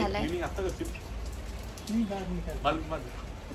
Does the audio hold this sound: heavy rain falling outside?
yes